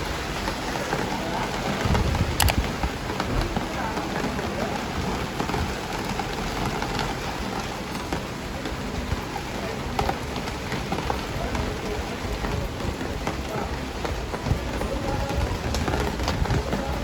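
Steady rain falling and pattering on surfaces, a continuous dense hiss of drops that holds at an even level throughout with no pauses.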